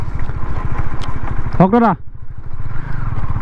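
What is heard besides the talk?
KTM Duke 250 motorcycle engine revving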